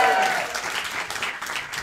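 An audience at a stand-up comedy show applauds, a loud burst of clapping that fades to lighter scattered claps, with no one speaking over it.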